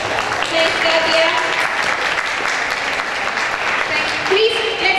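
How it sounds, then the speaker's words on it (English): A seminar audience at an English-teaching conference applauds steadily for a speaker named Katia; dense, even clapping fills the room and holds at a constant level for the whole span. "Please, let's give one more round of applause for Katia."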